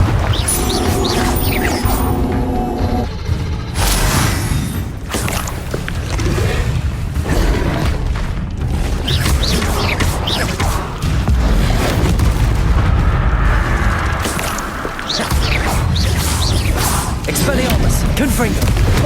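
Confringo and Bombarda spell explosions in the Hogwarts Legacy video game, loud booming blasts and crackling bursts repeating throughout a busy combat scene, with a voice talking over the din.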